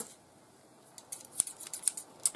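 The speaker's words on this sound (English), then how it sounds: "Let me get my scissors." Scissors snip at a book package in a series of sharp, fairly close metallic cuts, scattered and irregular after a quiet start.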